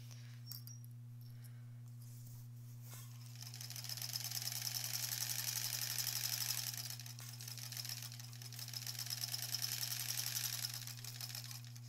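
A home sewing machine stitches a quilt in two long runs of rapid, even needle chatter, faint and close, over a low steady electrical hum, with quiet pauses between.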